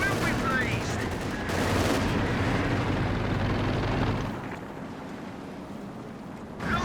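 Tank cannon fire and gunfire during a Company of Heroes 2 battle, a Firefly shooting at a Panther: sustained loud blasts and rumbling battle noise with a voice over it, easing to a quieter rumble near the end before a brief final burst.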